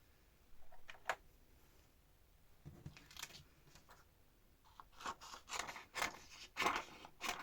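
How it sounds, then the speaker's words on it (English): Scissors snipping through a thin acetate sheet while trimming around a stamp shape, a series of sharp close crisp cuts, sparse at first and then coming in quicker bursts toward the end. "So I'm just going to kind of cut around the shape that I need."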